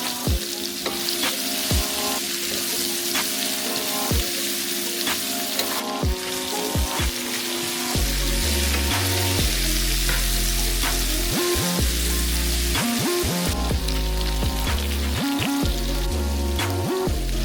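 Diced potatoes sauté in a pan where sausage was just browned, giving a steady close sizzle broken by scraping and clinks from stirring, with no talk.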